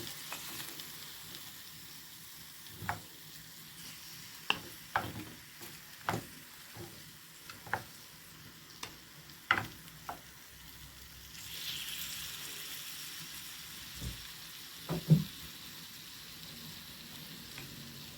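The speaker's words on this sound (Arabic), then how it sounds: "ونخليهم يتقلاو ليا واحد شويه" Meat for a tajine fries in a pan with a continuous crackling sizzle, punctuated by a dozen or so sharp pops and spatters scattered across the stretch, heard close and alone.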